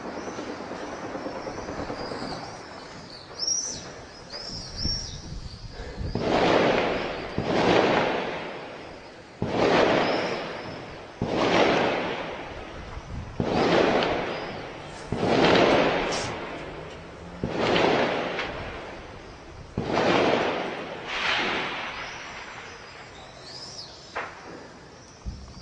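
Artillery shelling strikes city neighborhoods in Homs, Syria, in a series of heavy booming blasts that come at a fairly regular pace, each one followed by a rumbling decay.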